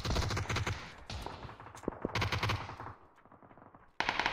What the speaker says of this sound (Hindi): अरे यार ये कहाँ से मार रहा है शॉट गन?